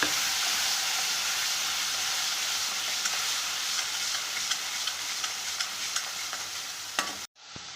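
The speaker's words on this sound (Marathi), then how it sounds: "आता आपण तेल सुटेपर्यंत याला छानसं भाजून घ्यायचं." Spice masala fries in oil for a cowpea bhaji, a steady loud sizzle with intermittent spoon clicks against the pan while stirring, cutting off abruptly at the end; no talking.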